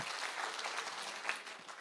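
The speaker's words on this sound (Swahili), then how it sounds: "Makofi ya heshima" A crowd at a public security forum in Nyamira Town claps steadily in a brief round of applause, even and fairly faint throughout.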